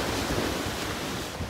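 Heavy sea surf breaks along the Jeddah waterfront, a steady, dense roar of churning water with a wind-blown rush and no voices.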